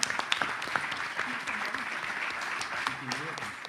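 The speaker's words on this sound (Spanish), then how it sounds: "les pido un aplauso para la organización" An audience at a university's institutional opening ceremony applauds the organisers, a soft, continuous patter of many hands heard from some distance, with a few voices murmuring under it.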